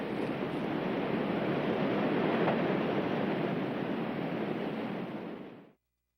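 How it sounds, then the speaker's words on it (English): A river rapid at the end of Beachy Lake in Kamchatka roars as a steady, dense broadband rush, close and constant, before cutting off abruptly near the end. "That is the rapid at the end of Beachy Lake."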